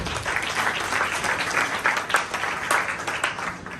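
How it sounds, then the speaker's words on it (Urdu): A church congregation bursts into loud, sustained applause during a Mother's Day sermon, dense clapping filling the room steadily for several seconds. "ان ماؤں کے لیے زوردار تالیاں"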